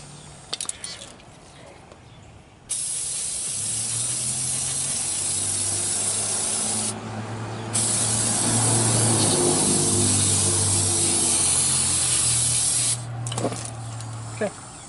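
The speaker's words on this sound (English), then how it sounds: "Go ahead and spray down the caliper, the brake line, and the front of the rotor." Long bursts of aerosol brake cleaner hiss steadily at close range onto the front brake caliper, brake line and rotor of a 2006 Dodge Grand Caravan, broken by short pauses, over a low background hum.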